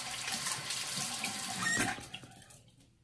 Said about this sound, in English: Let me rinse off my puck, my jar, whatever you want to call it.